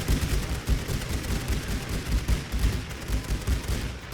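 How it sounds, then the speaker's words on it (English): Dense machine gun fire in The Great War: Western Front strategy video game, a continuous loud rattle of overlapping bursts with deep booming thumps underneath, no talk. "Machine guns are squirting like mad."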